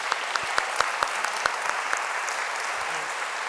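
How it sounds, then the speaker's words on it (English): A large audience applauds at a live spoken-word event, a dense steady wash of clapping with sharper individual claps standing out near the front, holding throughout without any talk. "So can we just say again a very big round of applause for Lemn Sissay."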